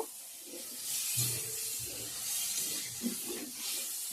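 Hot water pours into a pan of cooking potatoes, cauliflower and spinach for a Bengali fish curry, a soft continuous hissing splash lasting several seconds with faint gurgles, no voices.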